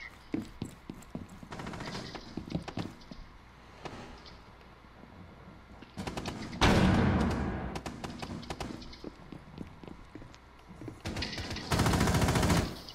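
Video game gunfire from a window, several loud bursts of rapid shots at irregular gaps between quieter stretches of game sound.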